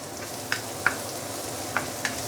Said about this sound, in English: Saute this probably for about a minute before we continue.